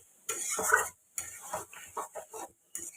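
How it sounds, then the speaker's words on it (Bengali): A spatula scrapes and stirs mushroom masala in a pan, several short bursts of scraping and sizzling separated by brief pauses, close and moderately quiet. "এবারে এটাকে আবারও ভালো করে কষাতে হবে"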